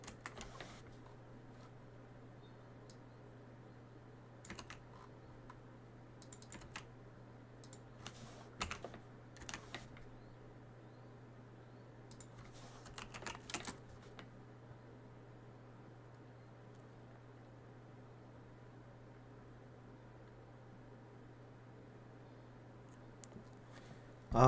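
Sparse bursts of typing on a Logitech G910 mechanical computer keyboard, quick clusters of clicky keystrokes with pauses between them, close and fairly quiet over a steady low electrical hum, no talking.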